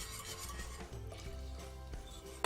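Moussaka sauce being whisked in a pot as it thickens, with a soft continuous rubbing and swirling sound, faint and close, and a brief metallic clink at the end.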